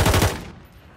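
A short, loud burst of rapid automatic gunfire in the video game Warzone, close and punchy, cutting off quickly into a fading tail.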